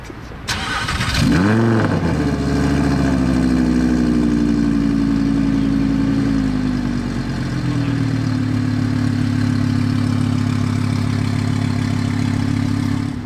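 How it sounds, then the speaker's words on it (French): A diesel TDI car engine cranks and fires up, surges in a quick rev, then settles into a steady, loud idle nearby. "Donc comme vous l'avez entendu, moteur diesel TDI."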